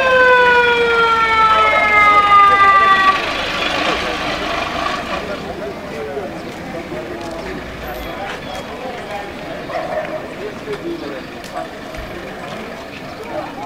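An emergency vehicle siren wails loudly at first with a falling tone, then cuts off, leaving a rumbling background of traffic and faint voices.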